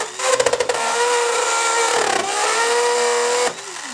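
A Distrezz wheel tool rasps along paper edges to distress them, starting with a quick burst of rhythmic clicks and then a loud sustained grinding whir that briefly dips and resumes.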